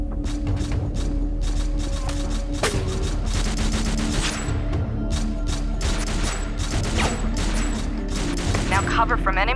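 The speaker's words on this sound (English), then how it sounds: "Now cover from enemy fire and reload." Enemy gunfire in the Overkill 3 shooter game on the East Slums level, dense continuous bursts of shots layered with mechanical clatter and thumps, loud and unbroken from start to end, with no one talking.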